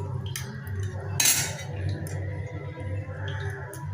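Food is served from bowls onto a thali plate with soft clinks and scrapes of spoons against metal dishes, one brighter clatter standing out, over a low steady hum.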